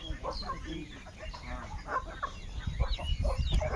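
Chickens cluck at a rural poultry yard, giving several short, close calls while voices talk over them.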